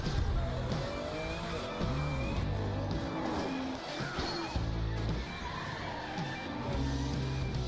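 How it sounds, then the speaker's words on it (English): Race cars in a Ubisoft game trailer roar and skid continuously with screeching tires, a dense, loud mix of engines and crashing noise throughout with no pauses. "Oh, there's a skid! Oh, and there's a wreck! The cars are piling up!"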